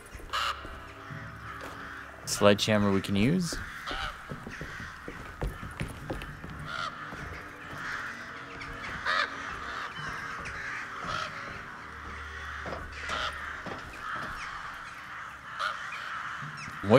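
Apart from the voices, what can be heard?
crows cawing in Alone In The Dark video game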